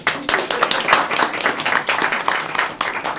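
An audience claps in applause, a dense close patter of many hands that keeps going without a break, with no words spoken.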